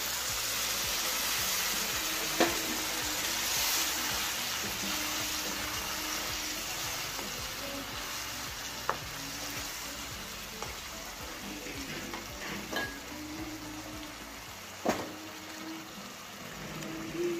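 Fried egg masala sizzles steadily in a pan after a little water is poured in, with occasional soft knocks and scrapes from stirring, close and fairly quiet, with no one talking.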